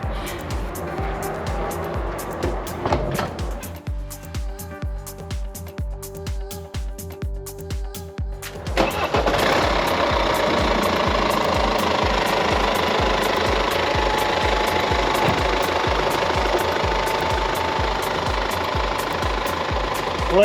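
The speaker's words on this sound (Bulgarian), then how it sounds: "Сега ще запалим автомобила." A BMW F11 525xd diesel engine cranks and fires up, then settles into a loud, steady, clattering idle with a rapid knocking rhythm, heard close and alone.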